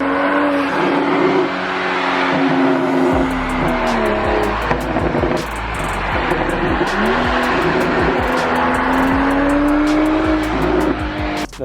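A BMW car engine rumbles steadily nearby with rising and falling revs and a throaty exhaust note, continuous throughout with some sharp ticks above.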